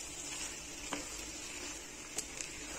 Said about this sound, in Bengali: তো এটা আমি দিয়ে খুব ভালো করে এরকম 1 মিনিটের মতন নেড়ে চেড়ে ভেজে নেব